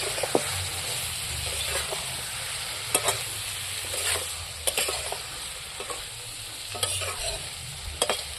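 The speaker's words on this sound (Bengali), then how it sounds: "ভাজা ভাজা হয়ে যাচ্ছে" Soybean chunks and garam masala spice paste with a splash of water frying in a pan, giving a steady close sizzle with occasional sharp scraping stirs of a utensil against the pan.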